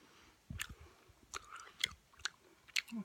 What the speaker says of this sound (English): I'll try some more fast chews now.